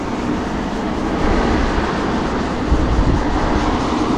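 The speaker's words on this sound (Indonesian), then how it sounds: "ada kereta cepat itu." Loud, continuous roar of a yellow Puyuma express train rushing past nearby in Taiwan, a broad rushing rumble that swells slightly and stays steady.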